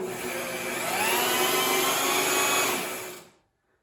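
An electric drill spins the hydraulic motor of a John Deere 300 garden tractor, giving a loud, steady whirring drone for about three seconds before it cuts off into silence.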